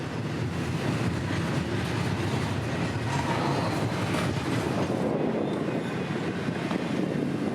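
A coal train hauled by three GE diesel locomotives rolls past, a steady, moderately loud rumble of wheels and cars, with no voices.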